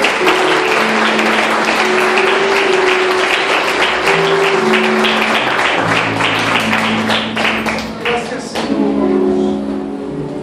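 Congregation applauding inside a church during an evangelical service, a dense, steady wash of clapping that fills the whole clip, with sustained musical tones playing underneath.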